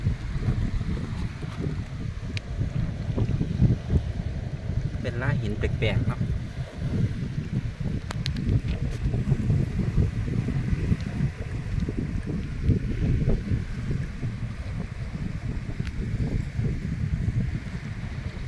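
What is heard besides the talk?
sea waves washing on a rocky beach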